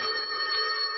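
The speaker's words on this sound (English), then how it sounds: "Phone. Reprieve." A telephone rings in a brief, loud, shrill electric burst, heard alone.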